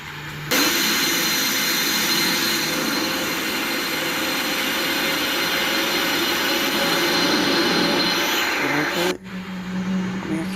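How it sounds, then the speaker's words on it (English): A jet engine on a Lufthansa A319 spools up in a flight simulator game, a steady, loud, broad roar with a high whine that holds for about nine seconds before it cuts off abruptly. "Engine starting."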